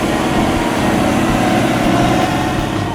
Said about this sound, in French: Le John Deere 8345 Airfort de ses 345 chevaux tracte ce monstrueux semoir.